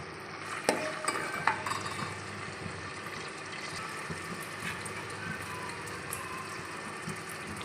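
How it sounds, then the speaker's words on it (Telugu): Onion, green chilli and curry leaves fry in hot oil, a steady close sizzle with a few clinks and stirring sounds at the start. "దాంట్లో నేను ఆనియన్, పచ్చిమిర్చి, కరివేపాకు అయితే యాడ్ చేస్తున్నాను"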